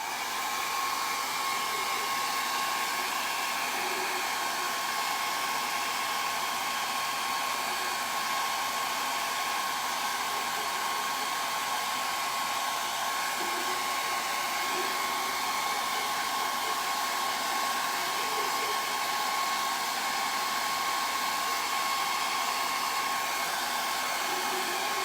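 A hair dryer blows to dry freshly applied coats, a loud steady whooshing drone with a constant whine that runs unbroken throughout, no voices.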